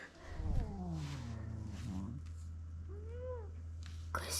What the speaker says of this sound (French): Nous avons un minou très mécontent.